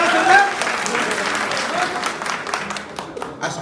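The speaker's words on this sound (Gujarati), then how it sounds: "આના માટે તાળી કરો." An audience applauds at a Mehsana hospital event handing health cards to rickshaw drivers, with steady, dense clapping for several seconds and voices mixed in.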